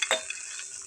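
Chili peppers frying in a pan, a brief steady sizzle opened by a quick scrape of stirring, close and moderately quiet, with no speech.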